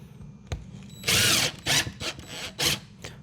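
A power drill drives screws into box van interior panels, with a sharp whir burst followed by several short, rising spins and clicks close by.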